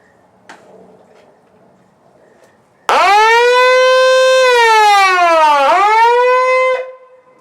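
A loud electronic siren, a small flip-over unit on a VW dune buggy, suddenly starts wailing, holding a pitch and dipping once before cutting off, after a faint click.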